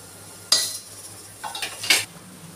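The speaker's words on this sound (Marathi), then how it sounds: "छान असं हे परतून घ्यायचं वाटण, तेल तिथेपर्यंत याला छान असं परतून घ्यायचं आपण" Spoon scraping and stirring a ground spice paste with mutton masala as it sautés in oil for a spicy village-style mutton curry, heard as a few short metallic scrapes against the pot over a quiet background.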